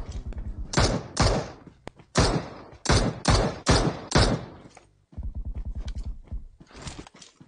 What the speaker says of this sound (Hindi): अभी फायर शुरू कर दिया